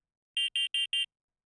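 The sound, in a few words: emergency communication alarm siren in a visual novel game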